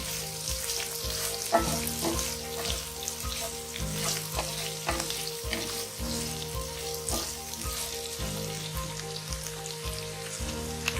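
Tindora (ivy gourd) frying in a pan with roasted green chilies keeps up a steady sizzle. A spoon scrapes and stirs through it at intervals, with no voices.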